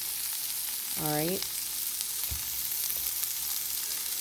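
Cheeseburger sliders frying and sizzling steadily in a hot pan, a continuous crackle running throughout with a brief spoken word near the middle.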